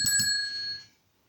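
A ring-for-service bell is struck twice in quick succession, bright and close, its metallic tone ringing on and fading out over about a second.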